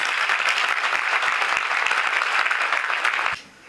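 Audience in a lecture hall applauding after an architect's talk on modernising Indian cities, a dense, even roar of clapping held at full strength before it cuts off abruptly near the end.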